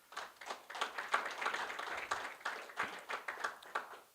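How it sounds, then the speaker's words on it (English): An audience at the African Genius Awards 2024 luncheon gives a round of applause, with fairly faint, uneven clapping in quick bursts that lasts a few seconds. "Again, a round of applause to you, Dr. Tshifularo."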